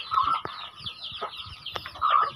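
Small chicks, only days old, peep and cheep in short bright bursts, repeated close by and overlapping a few clucks from adult hens in a provincial backyard.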